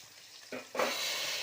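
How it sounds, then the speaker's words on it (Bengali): Fish fries in a wok, a quiet start giving way to a sudden hiss of sizzling oil that holds steady and close, with no voices. "এখানে মাছ ভাজা হচ্ছে"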